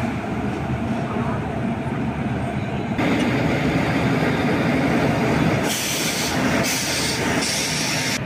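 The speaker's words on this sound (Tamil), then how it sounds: "அந்த மாதிரி தான் இன்றைக்கி புல் பண்ணுது நம்ம பினாக்கினி சூப்பர் ஃபாஸ்ட்டை." The Pinakini Superfast Express, hauled by a WAP4 electric locomotive from Chennai to Vijayawada, gives a steady loud rumble and rattle of the running train throughout, with a hissing surge near the end.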